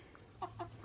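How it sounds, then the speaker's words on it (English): Backyard chickens clucking at a roost pole, a few soft short clucks in quick succession, faint and close over a low steady background hum. "They're all clucking at me."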